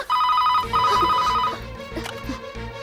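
A telephone rings in a Hindi-dubbed South Indian action film, a loud repeating electronic trill in two bursts over a low musical bed, fading as the scene moves on.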